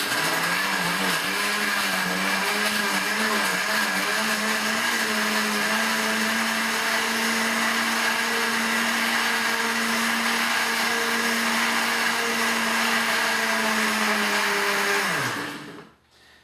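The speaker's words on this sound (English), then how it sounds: "This is going to take a little bit longer to blend" A blender whirs loudly and steadily blending a green smoothie for a long stretch, its motor pitch wavering slightly at first, then winding down abruptly at the end.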